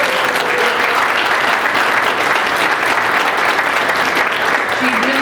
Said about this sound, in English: Could we get another quick round of applause for her?